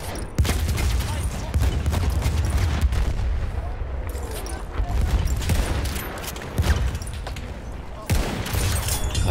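Rapid rifle fire and booming shots from the game Battlefield 1 sound continuously and loudly, with a voice talking over the shooting.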